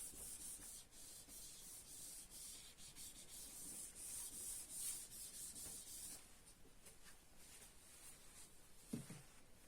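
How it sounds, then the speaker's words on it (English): A duster rubs writing off a lecture-room board in quick, scratchy strokes for several seconds and then stops, leaving faint room noise and a small knock near the end. "only this part I will erase."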